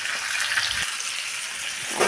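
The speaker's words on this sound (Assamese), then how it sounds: "আলুখিনি দি লৰাই দিছোঁ।" Potatoes go into a pan of hot oil and are stirred, giving a loud, continuous frying hiss with faint movement underneath.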